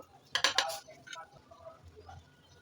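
A spoon clinks briskly against a bowl as three spoonfuls of cornflour are stirred with vinegar, a quick cluster of close metallic taps followed by softer scraping.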